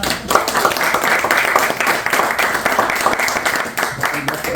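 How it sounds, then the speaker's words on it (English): An audience at a book fair applauds, a steady dense wash of many hands clapping that holds evenly for several seconds. "Another round of applause."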